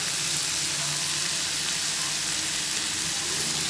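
Mutton frying with fenugreek leaves and salt in a pan, a loud, dense and unbroken sizzle that holds steady throughout, close by and with nothing else heard.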